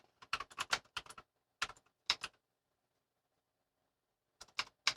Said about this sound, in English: I'm sorry for clicking. We didn't invest in a quiet keyboard yet.